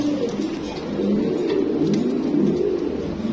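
A pair of black lotka pigeons coo close by, a low, soft, continuous burbling that rises and falls without a break and is heard alone with nobody talking.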